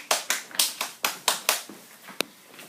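A small group of hands claps for James Hooper, a polar and mountain adventurer, in about eight sharp, separate claps at a steady rhythm, faint and close, then scattered taps that trail off.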